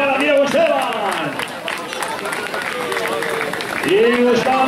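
A crowd applauds runners as they reach the finish line of a race, with steady clapping and cheering throughout. An announcer talks loudly over the applause.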